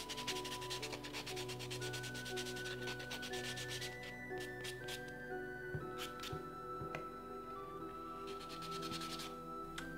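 Soft file buffing false nails with steady back-and-forth rubbing strokes, a continuous close scratchy sanding texture under faint background tones, no talking.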